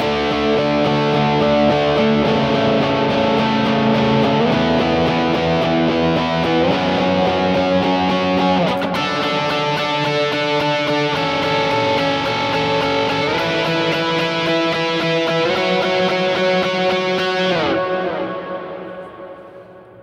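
Distorted electric guitar with chorus and echo effects, played as a worship-style rhythm of even eighth-note downstrokes with no accents, strums through a chord progression for about eighteen seconds before ringing out and fading.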